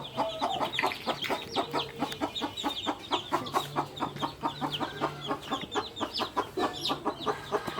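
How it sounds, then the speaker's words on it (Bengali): Newly hatched chicken chicks peep in a dense, continuous chorus of rapid high chirps, close and loud, with a faint low hum underneath and no talking. "মুরগির বাচ্চা হওয়ার সাথে সাথে দৌড়াদৌড়ি শুরু করে দেয়"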